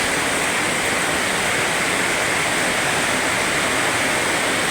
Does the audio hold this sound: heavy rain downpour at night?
yes